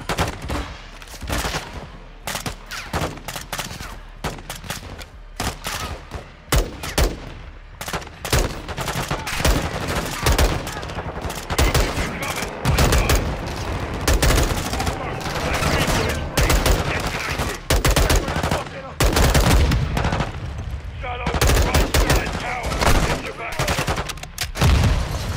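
Sustained automatic gunfire in Call of Duty: Modern Warfare 2 during a prison break, dense overlapping machine-gun bursts and shots crackling nearly nonstop, loud and close throughout.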